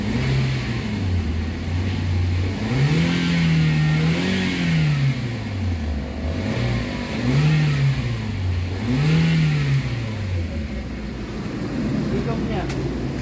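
A Toyota Avanza engine with an overheating problem revs up and down repeatedly in slow waves, steady and close, with a continuous mechanical drone underneath.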